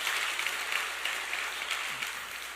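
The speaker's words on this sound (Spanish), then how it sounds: "aplauda el nombre del Señor" Church congregation applauds during a sermon, a soft, continuous patter of clapping heard at a distance for a couple of seconds without speech.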